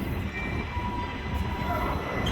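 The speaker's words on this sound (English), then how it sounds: "There's a streetcar." A streetcar passing through downtown Tucson near 4th Avenue, a low rumbling rail roll with faint squeals, steady and moderately distant throughout the short stretch.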